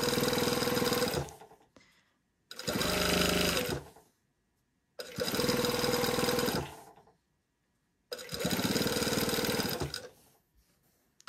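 A sewing machine stitching along a seam of fabric for pants, four loud bursts of rapid mechanical whirring, each lasting a second or two, separated by short silent pauses.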